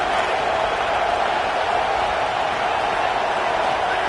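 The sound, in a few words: home football crowd cheering loudly in stadium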